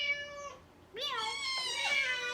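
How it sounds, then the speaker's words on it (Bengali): A cat meows close and clear in a child's play setting: a short first meow, then a longer drawn-out meow after a brief gap. "মিয়াও, এই যে মিয়াও, কিটি।"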